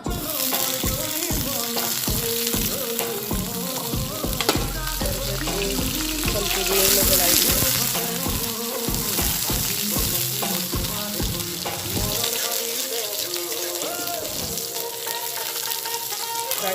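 Chilies and onions fry in hot oil with a loud, steady sizzle, broken by frequent clattering stirs and scrapes of the pan.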